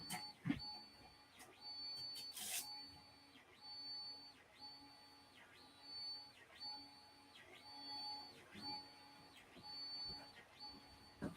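A 3D printer runs quietly with a regular repeating motor whine in even cycles while the filament spool snags, with faint talk low in the background.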